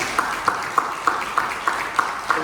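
A church congregation claps together in a steady, even rhythm during a worship service, with sharp regular beats standing out above a dense wash of applause.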